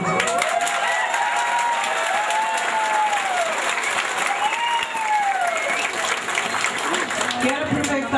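A protest crowd of quilombola activists occupying a federal land agency office claps and cheers steadily, with voices shouting and calling out through the applause.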